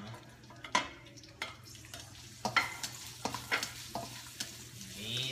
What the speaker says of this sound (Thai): น้ำมันร้อนแล้วเนาะ ก็นี่เลยค่ะพริกขี้หนู